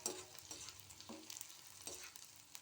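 Onions, green chillies and potatoes frying in a little mustard oil, a soft, quiet sizzle broken by a few scraping stirs, no voices.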